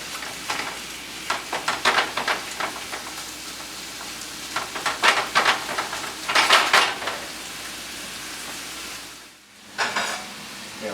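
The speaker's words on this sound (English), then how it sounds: "With our beef, just turning it as it starts to brown." Ground beef browns in a hot pan for a taco pie, sizzling steadily while a utensil scrapes and turns the meat in repeated bursts, then the sizzle dips briefly before resuming, with no talking.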